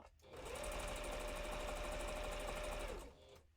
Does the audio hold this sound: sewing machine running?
yes